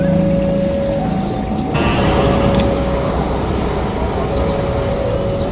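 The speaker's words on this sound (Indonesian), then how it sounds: "Sebentar lagi kereta api Baturaden Express akan segera melintas langsung di stasiun" A Baturaden Express passenger train with double locomotives passing straight through Ranca Ekek station, a loud, steady rolling roar with a sustained whistle-like tone and a sharp burst of added noise midway.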